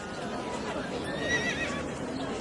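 A horse whinnies briefly amid a noisy medieval knights' tournament with armoured riders and caparisoned horses, the shrill neigh rising over dense background noise.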